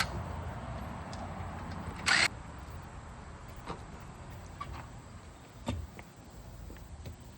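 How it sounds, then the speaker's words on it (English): A Craftsman impact driver removes 19mm bolts on a Buick Rainier SUV during a brake job. A sharp, loud burst of hammering comes near the two-second mark, followed by scattered clicks and clanks of the work against a low background rumble. "Now we're gonna move the 19mm bolts with Craftsman impact driver."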